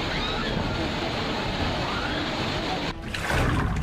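Flood water in Madhya Pradesh rushes in a loud, continuous broadband roar, like a torrent surging steadily, with a brief dip before the flow swells again.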